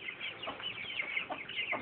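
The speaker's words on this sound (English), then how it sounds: "But this is the chicks. They are 7 weeks old" Seven-week-old chicks clucking and peeping softly, close by, in a steady run of short overlapping calls with no talk over them.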